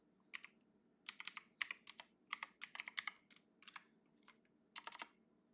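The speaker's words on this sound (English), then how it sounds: "Give me a moment to type it out." Quiet keystrokes on a computer keyboard come in irregular bursts of rapid clicks with short pauses between them, close and faint, with no voice.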